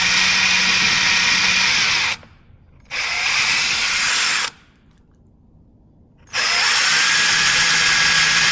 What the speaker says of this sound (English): All right, we drilled through it